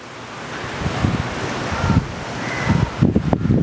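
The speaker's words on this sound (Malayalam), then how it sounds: "നല്ല പോലെ കാറ്റ് കിട്ടുന്ന ഒരു ലൊക്കേഷനാണ് കേട്ടോ" Wind sweeping across the balcony of a three-bedroom house near Pottayil junction, Thirumala: a steady, breathy roar with gusts buffeting the microphone, swelling stronger toward the end, with no voices.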